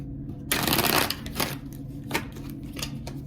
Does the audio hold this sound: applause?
no